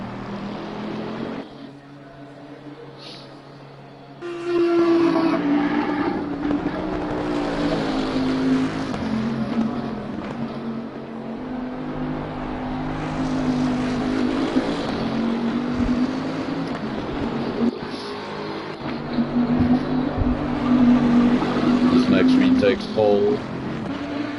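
Bentley race car engines in a sim racing game qualifying session at Zandvoort, a steady loud engine drone with shifting pitch that runs throughout, heard under continuous commentary.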